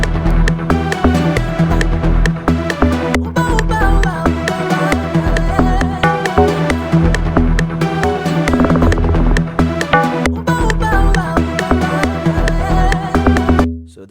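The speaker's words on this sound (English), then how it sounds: "So that's the lock drum." A lock drum pattern drives a soca beat made in FL Studio, with steady, busy hits inside a dense, loud mix of synths and bass that runs continuously and then cuts off.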